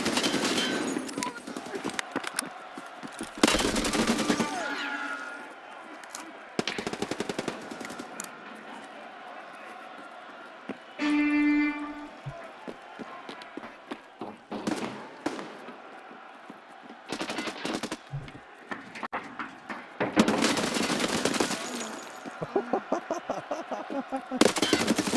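Gunfire in the video game Escape from Tarkov comes in repeated loud bursts and single shots spread across the stretch, with quieter gaps between them. Speech can be heard at points.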